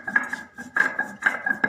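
Poppy seeds are ground on a stone grinding slab in quick bursts of scraping and clinking stone-on-stone strokes, with short pauses between them, close and fairly loud.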